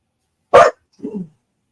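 A dog gives a single loud, sharp bark up close, followed by a softer, lower grumbling yip-like sound, with no talking.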